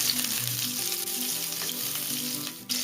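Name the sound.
garlic and green chili sizzling in very hot oil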